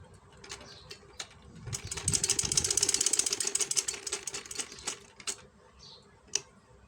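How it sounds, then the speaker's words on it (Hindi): A sewing machine stitches fabric along a strip of buckram while a kurti is made. Fairly faint, a quick run of stitching rises in the middle between scattered clicks and taps, with no talk. "अब ये बुकरम के बिल्कुल साथ साथ सिलाई लगाएंगे"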